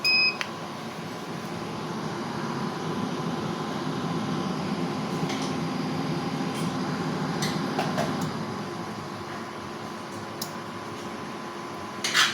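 A 5 kW 48V hybrid rackmount inverter with LCD touchscreen powers on, giving short electronic beeps over a steady fan-like hum in a quiet room, with a few faint clicks and taps.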